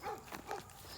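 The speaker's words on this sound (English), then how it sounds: "she can hear one of my dogs barking at her" Faint, short barks from a dog at some distance, a few quick yelps clustered within about a second.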